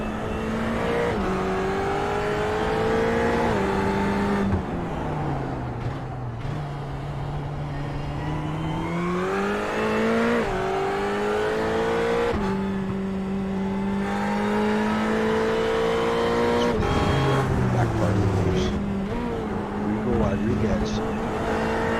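Grand touring race cars, including a Ferrari, lap a road course with a chicane. A steady, droning engine note rises and falls with each shift and corner, carrying continuously under a commentator's voice.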